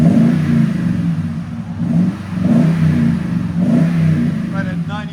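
A 2021 Toyota Tundra 4x4 with a 5.7L V8 and Borla ProXS exhaust is revved repeatedly, a deep, loud exhaust drone swelling and easing in several pulses close by, with a voice briefly heard.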